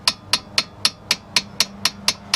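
A small hammer taps a brake caliper on a 1994–2004 Ford Mustang, ten sharp metallic knocks in an even rhythm about a quarter second apart, close and clear with no voices.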